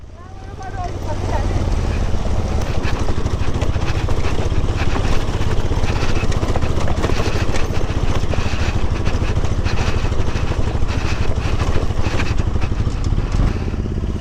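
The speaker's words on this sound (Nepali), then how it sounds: "त्यो बाइक आउँदैछ" A motorcycle engine drones steadily on a jungle road in Nepal's Manang region, growing from a low rumble to a loud, continuous buzz as it draws near, with people talking over it.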